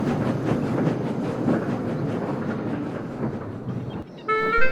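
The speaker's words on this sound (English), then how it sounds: "he angrily puffed away with his coaches." Steam engine hauling coaches on a railway, a continuous rumbling chuff of wheels and puffing that carries on steadily, then a brief break before a high whistle toot at the end.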